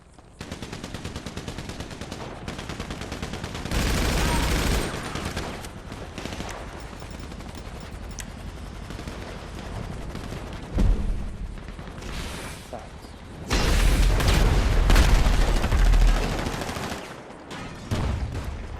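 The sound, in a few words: gunfire in GTA Online video game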